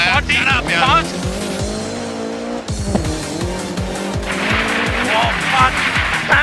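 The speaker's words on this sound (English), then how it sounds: "We are wrecking the car!" A rally car in the Dirt Rally video game revs hard with its engine note climbing and dropping, and its tires squeal as it skids. People shout over the loud, close engine.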